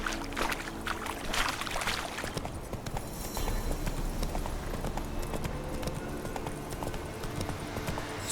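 Hooves of the horse Roach galloping in The Witcher 3, a steady rhythmic clip-clop with rustling movement, continuous at moderate loudness.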